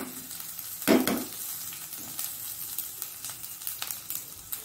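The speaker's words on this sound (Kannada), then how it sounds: "ಇದಂದರೆ ಸಾಸಿವೆ ಸಿಡಿದು ಒಂದು ಒಗ್ಗರಣೆ ಟೈಪ್ನಲ್ಲಿದು" Mustard seeds crackling and sizzling in hot tempering oil for onion chutney, a steady close frying hiss with scattered sharp pops and one louder burst early on.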